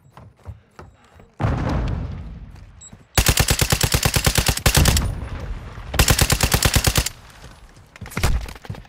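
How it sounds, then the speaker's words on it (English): Call of Duty multiplayer gunfire on PS5: a loud blast and rumble, then two sustained bursts of rapid automatic fire roughly a second or more each, with scattered shots and a thud after, all close and heavy. "I'm taking effective fire!"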